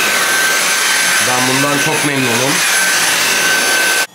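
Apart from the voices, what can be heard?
Dyson vacuum cleaner running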